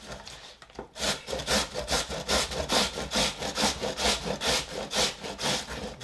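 Vegetables rubbed briskly on a box grater in a home kitchen, a rapid even rhythm of about a dozen scraping strokes, loud and close, with no talk.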